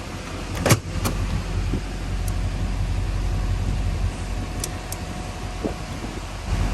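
A 6.6 Duramax LBZ diesel in a Sierra/Silverado pickup runs at high idle as a steady low engine rumble, with a few clicks and switch taps over it.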